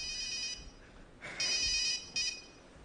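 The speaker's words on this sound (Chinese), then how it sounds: "你等我接电话" A telephone ringtone chimes in short bursts, fairly close but not loud, during a comedy sketch on a stage show.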